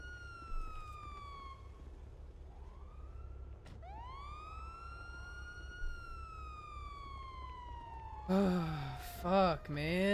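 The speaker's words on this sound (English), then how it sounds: "Somebody cut my siren off, please." A police car siren in a roleplay video game wails in long rising and falling sweeps, fairly faint and steady, then breaks into rapid yelping warbles near the end.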